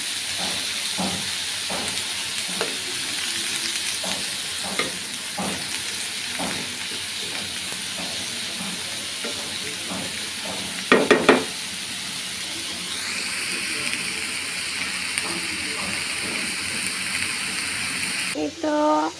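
Vegetables sizzle and steam in a hot pan for a Bangladeshi breakfast, with repeated stirring clatter of a spatula, a louder burst of scraping midway, and a soft hiss throughout.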